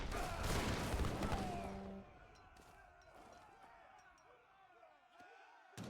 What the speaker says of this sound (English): First heavy cannon shot.